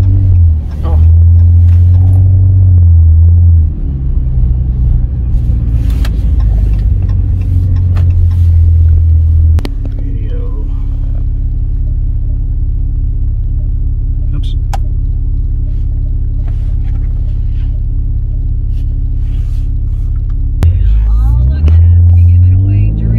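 Car with a 9-speed automatic accelerating on a test drive: a low engine drone that shifts pitch at a couple of points as gears change, heard from inside the cabin with a person talking over it.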